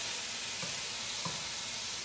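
Steady, hissing sizzle of ground meat frying in a pan, with a couple of soft scraping knocks as it gets broken up; no voices.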